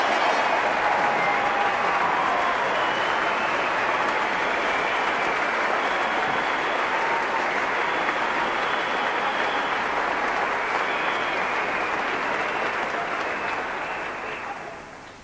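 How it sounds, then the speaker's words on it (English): A large audience at the 1990 Last Night of the Proms fills the hall with sustained, dense applause and cheering that holds steady and then fades near the end. "let's have a rousing cheer for Old Timber"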